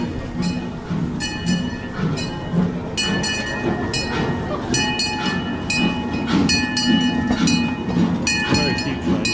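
A small amusement park train runs at Europa-Park with a steady rumbling roll and rhythmic wheel clatter. Repeated bright metallic squeals ring out over it, and a voice speaks briefly.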